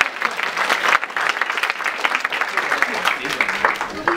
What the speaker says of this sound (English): Big round of applause to the escorts and to the mainliners.